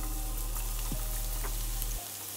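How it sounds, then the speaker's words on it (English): Garlic browning in hot vegetable oil in a pan over medium heat: a steady, soft crackling sizzle with a low hum beneath, which drops away near the end. "Then now I'm going to brown our garlic."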